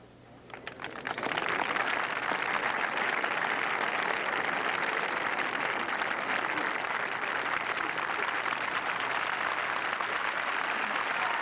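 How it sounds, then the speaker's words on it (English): Golf gallery at the 1986 Masters at Augusta giving Jack Nicklaus an ovation, a few scattered claps quickly swelling into sustained loud applause that rolls on steadily for about ten seconds. "the Nicklaus ovation came ringing back"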